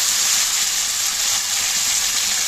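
Ingredients fry in hot oil in a pan for a Tamil-style kuzhambu curry, giving a steady, close, loud sizzle that hisses evenly throughout with no break and no voices.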